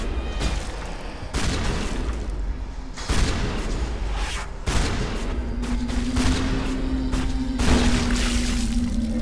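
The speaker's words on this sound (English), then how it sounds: "Whoa, they all just died from that explosion." Mass Effect combat on PS4 brings repeated loud blasts and bursts of gunfire at close range, with heavy booms every second or two and a rising whine near the end.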